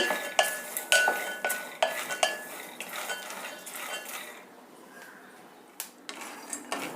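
Fried spicy peanuts being lifted out of a pan with a metal spoon, sharp scraping clinks and light rattles in an uneven rhythm, close and fairly quiet, with a brief lull midway.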